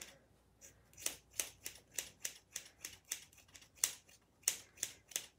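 Sharp scissor snips sound close and quick while point cutting long hair, about a dozen crisp clicks arriving in an irregular rhythm with short gaps between them.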